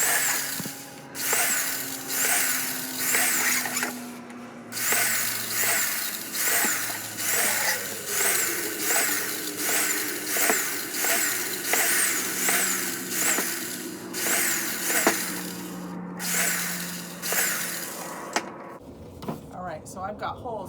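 A power drill bores holes around the bottom of a plastic compost bucket in repeated short bursts, each whine rising and stopping, with a person talking between and over the drilling.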